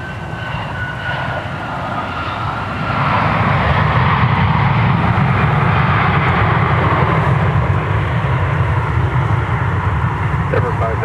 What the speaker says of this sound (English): it's a CRJ 900 LR for Endeavor Air flying flight 5008 from Rochester